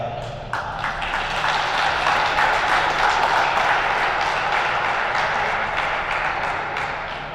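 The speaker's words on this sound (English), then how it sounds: "Let's give one more big round of applause for our seniors from both schools" Sustained applause from a gym crowd on senior night at a girls' varsity high school basketball game, Archbishop Carroll versus Conwell-Egan, with dense clapping swelling and fading over several seconds.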